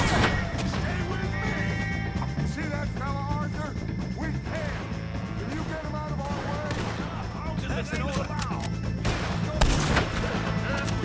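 Gunfire in the Red Dead Redemption 2 video game crackles in rapid, repeated bursts and shots across the whole stretch, loud and busy, layered with game music and effects.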